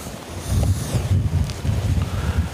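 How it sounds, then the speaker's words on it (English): Wind gusts across an outdoor disc golf course during a tournament round, buffeting the microphone in rough, rumbling surges that rise and fall over a couple of seconds. "The wind's picking up."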